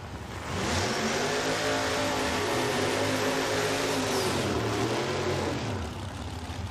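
A drag-racing hot rod engine roars loud and close in a sustained high-rev pull lasting several seconds at a Lights Out 13 event, its tone shifting as it climbs, with no voices over it.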